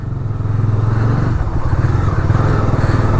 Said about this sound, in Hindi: चलो बाइक पे चलते हैं।